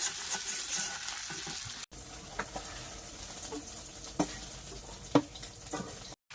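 Prawns fry in a pan in a home kitchen with a loud, close, steady sizzle, broken by a few sharp clinks and scrapes of stirring and one brief dropout.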